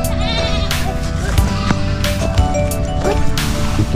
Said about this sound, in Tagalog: Yan po, dami nilang alagang kambing.